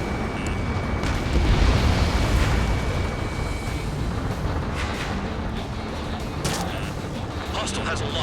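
Heavy rumbling blasts and explosions from a missile strike in the Ace Combat 7 combat flight game, a dense, loud boom sustained throughout with layered jet and weapon noise and game radio chatter underneath.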